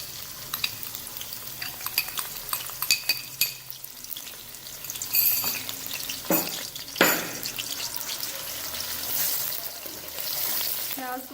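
Onions hit hot cooking oil in a kadhai and fry with a lively crackling sizzle, punctuated by stirring clatters and a couple of sharp bursts, continuing close and steady throughout.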